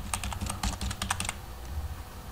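Quick typing on a computer keyboard, a short burst of rapid light key clicks close by, then fading into quiet room hum.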